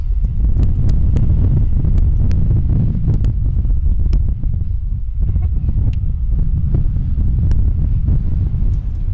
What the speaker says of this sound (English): It was very windy and choppy that day.